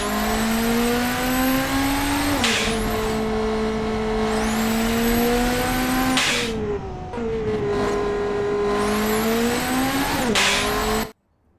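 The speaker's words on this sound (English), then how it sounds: "what did they say about the sound? Like the engine sound wasn't good enough?" A race car engine in the Automation car-design game running laps on an airfield track, loud and close, with repeated rising revs through gears, sharp shift drops, tire squeal and a brief lift-off before cutting out.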